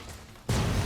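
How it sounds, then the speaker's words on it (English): A grenade goes off in Fallout New Vegas, a sudden loud burst cutting in halfway through a short quiet stretch and holding as a dense, rumbling blast with no talk. "Okay, dodge that grenade. Dodge the other one, sort of."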